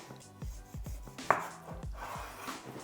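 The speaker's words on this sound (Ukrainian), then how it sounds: "Беру 700 г курятини і нарізаю її такими тонкими кубиками" A knife chops raw chicken into thin cubes on a board, about a dozen firm, evenly spaced strokes, close and clear with no voices.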